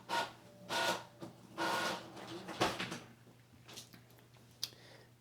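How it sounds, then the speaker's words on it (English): A home printer runs in the background, several swelling mechanical passes of feeding and rasping followed by softer ticks and a sharp click near the end, with no one talking. "something's being printed out of my printer in the background there"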